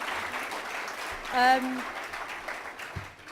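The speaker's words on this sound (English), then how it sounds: "I also want you to give a round of applause for Tim as well, and for yourselves." Faint applause from an audience at a conference panel session, a soft, steady patter of many hands heard from a distance, with a brief whistle-like tone partway through.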